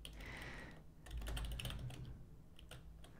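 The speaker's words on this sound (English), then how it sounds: "If I can type here." Keyboard typing on a computer during a live stream, a quiet burst of scattered keystrokes with short irregular clicks, some louder taps near the end, over a low background hum with no talking.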